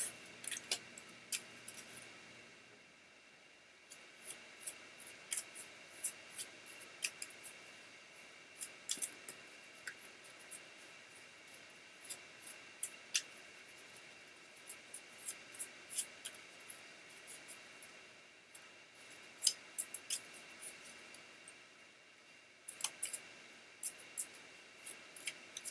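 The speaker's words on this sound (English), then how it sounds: "So I'm shuffling for you now" A deck of cards being shuffled close up by hand, giving soft riffling and tapping bursts in a repeated irregular rhythm over a quiet room, with no talking.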